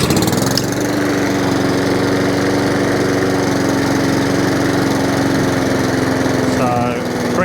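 A Honda overhead-valve engine on a junk lawn mower runs rough at idle, a loud, steady buzzing drone with slight unevenness that continues throughout, close to the listener.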